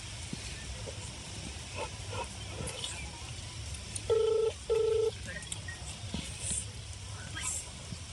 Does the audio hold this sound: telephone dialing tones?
yes